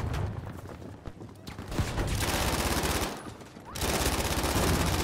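Hip-fired Vickers machine gun from Battlefield 5 rattles in long, loud sustained bursts, one brief dip near the third second, dense and close with heavy battlefield noise.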